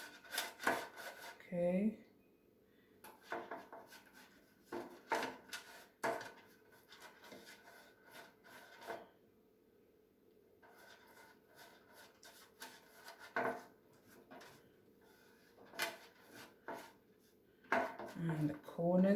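Pastry brush strokes spreading melted butter over a bread pan and into its corners, giving soft rubbing and light scraping sounds with a few clinks of the pan, under intermittent talk.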